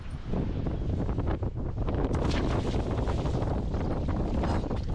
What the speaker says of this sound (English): It's windy in this anchorage for sure.